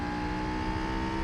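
A race car engine with modified, non-original engine sounds in the Gran Turismo 4 Randomizer video game holds a steady, high, buzzing drone near redline, loud and unbroken for about a second.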